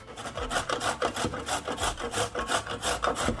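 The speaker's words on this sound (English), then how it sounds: "Use the shredding part of your grater to grate the carrot, to shred the carrot." A carrot is shredded on the coarse side of a hand grater, giving quick, regular scraping strokes, roughly three or four per second, close and rasping with no speech.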